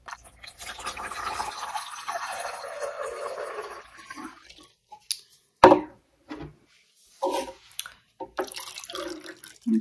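Water poured into the 240-milliliter tank of a Hy-Impact combined humidifier and space heater, heard as a trickling, dripping pour for the first few seconds, then fading into quiet with brief knocks and handling sounds.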